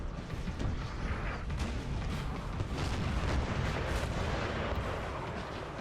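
Artillery cannons fire in a Napoleon Total War battle, a dense rumbling barrage of overlapping booms that rolls on steadily with no clear pauses.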